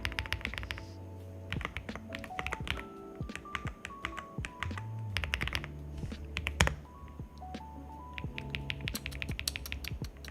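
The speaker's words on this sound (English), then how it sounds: "Low key only have the stream open to hear keyboard." Rapid computer keyboard typing clicks away steadily during a coding session, close and fairly quiet, with bursts of keystrokes mixed with faint background music tones.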